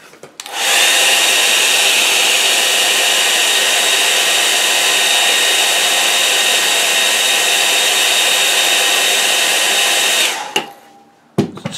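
A hair dryer blows steadily and loudly across a watercolour painting of trees and a barn, starting abruptly, holding an even roar for about ten seconds, then cutting off into near silence.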